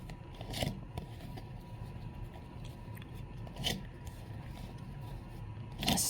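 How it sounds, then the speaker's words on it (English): Tarot cards laid out on a surface after shuffling: a few soft, brief swishes and scrapes spaced seconds apart over a quiet background. "Let me lay the cards out here"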